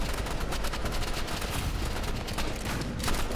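Dense, continuous gunfire from the Roblox shooter Rivals, a steady barrage of overlapping shots with no pauses, loud and close throughout.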